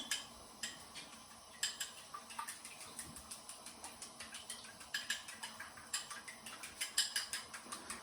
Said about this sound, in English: Okay, whisking again.